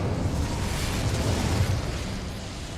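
A roaring, rumbling whoosh from the Incendio fire spell in Hogwarts Legacy holds steady and loud for nearly three seconds, a broad burst with no clear start or break.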